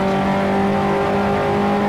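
A 1955 Formula One car in Grand Prix Legends, its engine note held steady and loud as a continuous drone through a heel-and-toe downshift toward second gear at the German Grand Prix, no voices.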